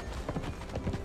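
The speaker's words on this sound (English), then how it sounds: "The horse can swim when it's following me." Horse hooves clip-clop in the Conan Exiles video game, a quick, moderately loud run of rhythmic hoof strikes close by.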